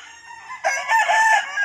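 A Boston Roundhead gamecock crows once, nearby and loud, a single drawn-out cock-a-doodle-doo with a rising start and a sustained end.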